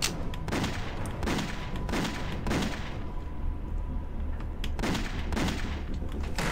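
Gunfire in the video game Dex, repeated loud bursts of shots in clusters over a steady noisy background, close and continuous with no talk.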